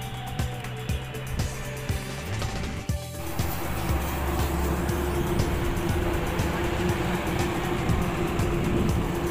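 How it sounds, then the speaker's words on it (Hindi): Traffic on the Agra Expressway passes below in a low, steady hum of cars rolling by at a distance. A brief dip is followed by a fuller, continuous drone. "नीचे गाड़ी चल रही है"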